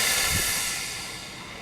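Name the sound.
steam cleaner releasing steam through a towel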